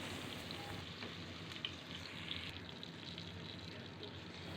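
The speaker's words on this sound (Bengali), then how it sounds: "দিয়ে এবার পুরো মশলা, আলু সব একসাথে একটু ভাজা ভাজা করব" Whole spices and potatoes sizzle steadily in a pan for a vegetarian cabbage dish, a continuous close frying hiss with no talk.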